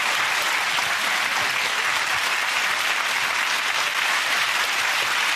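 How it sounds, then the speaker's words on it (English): Loud, steady applause from a television studio audience at the close of a family game show round, a dense unbroken wash of clapping with no gaps. "Give him a round of applause"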